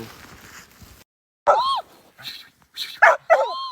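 A dog in snowy Lapland gives sharp whimpering yelps and short barks in separate bursts, loud and close, after a stretch of quieter rustling.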